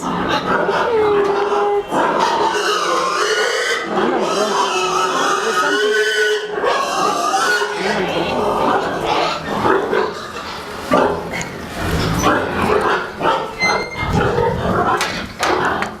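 Many pigs squealing loudly in a piggery as they wait for food, a continuous dense chorus of shrill cries and grunts from close by over sixteen seconds.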